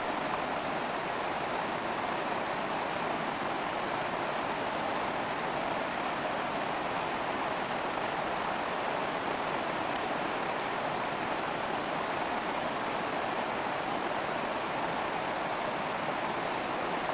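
South Fork of Coffee Creek rushing through a canyon in old-growth Douglas fir woods, a steady, broad, unbroken roar of flowing water with no voices.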